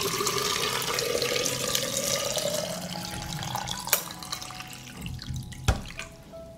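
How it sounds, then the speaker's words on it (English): Boiling water poured into glass jars packed with tomatoes: a continuous close gurgling pour with rising pitch as the jar fills, then a couple of sharp knocks of glass near the end. "I'm going to pour the water into the jars to cover the tomatoes."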